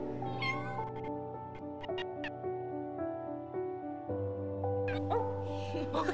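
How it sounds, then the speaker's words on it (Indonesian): A cat meows repeatedly over a steady tonal, musical-sounding background, fairly close and clear, with no talking. "Ada kucing."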